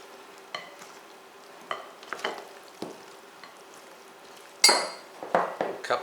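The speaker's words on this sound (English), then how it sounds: "You just want to stir the zucchini into the egg and cheese mixture." A spoon stirs sliced zucchini into an egg and cheese mixture in a bowl, giving soft wet scrapes and occasional sharper clinks against the dish, close and quiet.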